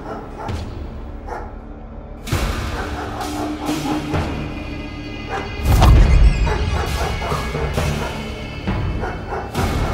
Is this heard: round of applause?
no